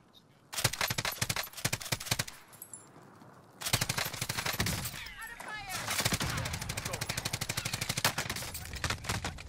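Rapid bursts of automatic gunfire crackle loudly in an online battle-royale shooter match, with a long sustained volley near the end and a sharper sniper crack among the shots; a player's voice is heard briefly between volleys.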